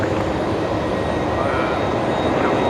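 A Qantas airliner, likely the evening Los Angeles service, roars steadily at Brisbane Airport, a broad continuous jet rumble heard from some distance without talk.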